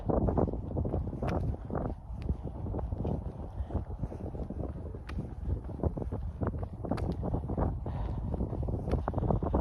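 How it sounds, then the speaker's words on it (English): Steady winter wind buffeting the microphone outdoors in a green space, a continuous low rumbling roar with gusty fluctuations throughout, fairly loud and close. "it's a little windy outside."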